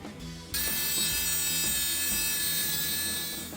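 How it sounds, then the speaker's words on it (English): A power cutting tool cuts the curved part off a metal tool in a garage working on a Porsche 914. A close, loud, steady whine starts abruptly and holds with a slight grinding texture. "now I'm going to cut the curved part off"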